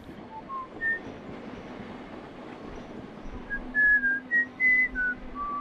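A train passes on a line right beside a home in a large city: a low rumble with a series of high, squealing wheel tones that grow louder and more frequent toward the end.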